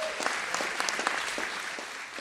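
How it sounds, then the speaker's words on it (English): Arts and culture summit audience gives itself a round of applause, a full wash of clapping with a few sharper individual claps standing out near the front. "So give yourselves a round of applause."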